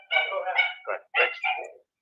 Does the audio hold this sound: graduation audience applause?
no